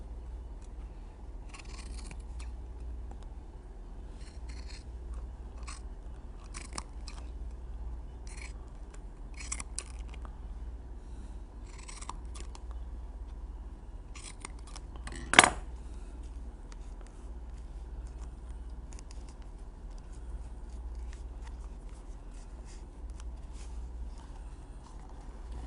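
Scissors cut through saddle pad material in a long run of crisp snips at an irregular rhythm, close and fairly quiet, with one sharper click partway through.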